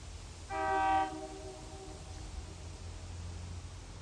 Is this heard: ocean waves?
no